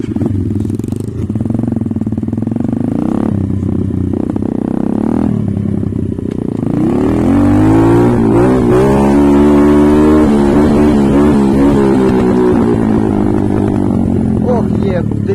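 Pit bike engines revving loud and close as riders set off toward a cave, a steady throaty drone rising in pitch, with people talking over it.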